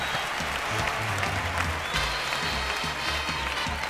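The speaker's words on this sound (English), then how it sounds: "they're getting a great round of applause" Continuous audience clapping for ballroom dancers at the 2005 European Standard Championship in Russia, a thick even wash of applause over a repeating low music beat.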